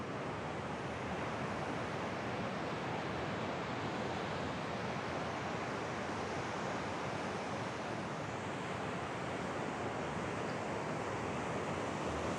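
Ocean surf rolls onto a huge, flat beach at low tide in Jaco, Costa Rica, a steady, unbroken wash of breaking waves with some wind, heard continuously and alone.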